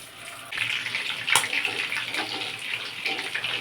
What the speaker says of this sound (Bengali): সাদা তেল দিয়ে দিলাম চিকেনগুলো ভেজে নেব